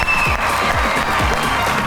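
An audience breaks into brief, steady applause for a poet taking the stage at a live poetry gathering, a dense wash of clapping that carries through the whole short moment.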